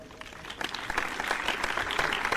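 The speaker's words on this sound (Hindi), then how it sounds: "मैं आपसे गुजारिश करता हूं कि कुंडू साहब के लिए ज़ोरदार तालियों से उनका इस्तकबाल करें" An audience at an All India Educational Conference inaugural session in Aurangabad gives a short burst of applause for a guest that swells slightly and holds, soft and distant in a large hall.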